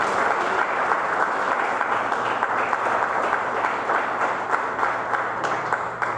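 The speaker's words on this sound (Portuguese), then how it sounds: "Você pode dar uma salva de palmas para Jesus?" A church congregation claps for Jesus in sustained, even applause, a dense wash of many hands that stays loud and steady throughout with no voices rising above it.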